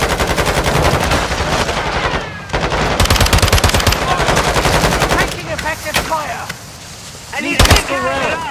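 A light machine gun fires long rattling bursts in Call of Duty DMZ, loud and close, with brief pauses between strings of rapid shots and other game sounds and whooshes in the gaps.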